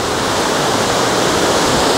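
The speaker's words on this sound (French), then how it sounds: "il y a vraiment beaucoup de vent" Strong wind gusting over open water beside swaying reeds, a steady loud roar of broadband noise with the rush of small waves, no voices.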